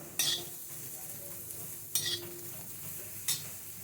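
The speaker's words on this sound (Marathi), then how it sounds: "दोन मिनटं असंच कच्चा कांदा परतून घ्या" Raw onion is sautéed in oil on a tawa with a soft, low sizzle underneath three distinct metallic scrapes of a spatula stirring against the iron surface.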